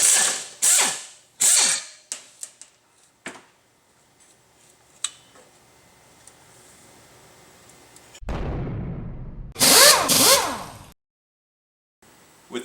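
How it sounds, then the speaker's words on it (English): A ratchet works the pressure plate bolts on a Jeep Wrangler Rubicon clutch, with bursts of loud clicking ratchet strokes, some isolated clanks, a hollow rumbling clatter near the end and a final ratcheting burst. "As you get to the last bolt on the pressure plate"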